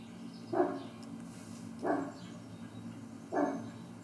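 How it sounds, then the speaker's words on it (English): A dog barks three times, evenly spaced about a second and a half apart, each bark short and sharp over a quiet background hiss. "I've got some sound effects here, one of a dog barking"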